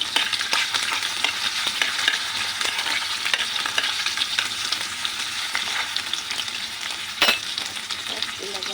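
Onions fry in a pan for Filipino adobong mamaw while being stirred, with a continuous close sizzle and brisk scraping and clatter throughout.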